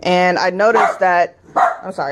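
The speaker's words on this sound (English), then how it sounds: "that's my dog, sorry." A pet dog barks in a home while someone is crafting gloves indoors. The repeated barks overlap with a person talking close to the microphone.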